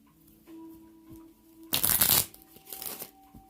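Tarot cards are shuffled by hand in a single loud riffling burst lasting about half a second, followed by softer rustling and card handling at close range in an otherwise quiet room, with no talking.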